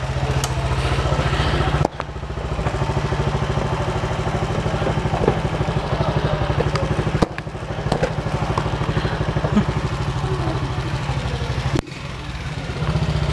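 A motorcycle idles nearby with a steady low rumble throughout, broken by a couple of brief dropouts.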